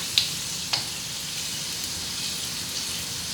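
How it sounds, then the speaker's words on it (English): Garlic sizzles and fries in a pan for fried rice, a steady close hiss with a couple of light clicks near the start and no talking. "I'm gonna add the garlic now."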